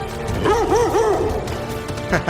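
A few synthetic, wavering bark-like yips rising and falling in pitch, game-style, over a continuous background of music and noise.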